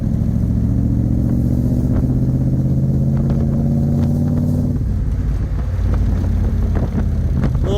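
A 1965 Backdraft Racing Cobra Roadster's loud engine rumbles steadily, with a brief shift in tone partway through and faint exhaust popping crackles over the low drone.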